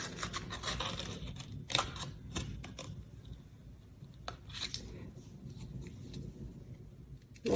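Scissors cut glow-in-the-dark paper for a Christmas card craft, making soft, close snips and rustles in a loose, irregular rhythm. Quiet room noise fills the gaps between cuts, and no one talks.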